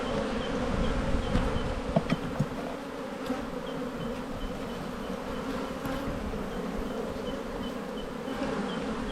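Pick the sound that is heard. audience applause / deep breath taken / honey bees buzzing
honey bees buzzing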